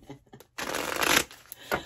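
Tarot cards being shuffled, a dense riffling burst lasting under a second, preceded by a few light card taps and followed by a short quiet flick, close and alone.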